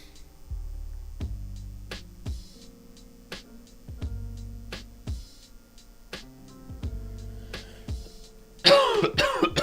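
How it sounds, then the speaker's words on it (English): A man coughs and clears his throat several times in a row, close and fairly loud in a quiet room, each burst brief with short pauses between, ending in a louder rough burst. "Sorry for the coughing all day."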